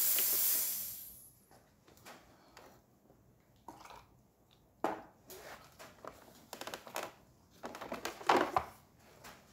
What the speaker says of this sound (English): steady steam comes out of the machine